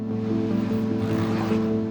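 Steady, coarse scratching of sandpaper rubbing over peeling clearcoat on a BMW E30, a continuous gritty hiss with a faint hum underneath, close and fairly loud.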